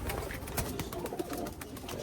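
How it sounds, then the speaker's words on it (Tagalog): Pigeon cooing close by, soft low coos over a quiet background, brief and alone without talking. "Hindi tayo nakapag-training dahil dito sa pasaway na ibon."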